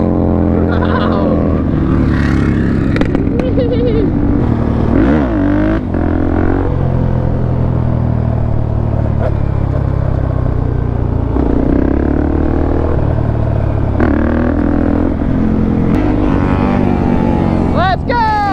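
Dirt bike engines roar fast and close, sustained and loud with revving swells, while excited voices shout over the riding.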